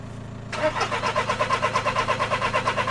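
A van's engine is cranked after electrical repair, the starter motor churning in a fast, even rhythmic chug that begins abruptly half a second in and continues close and loud.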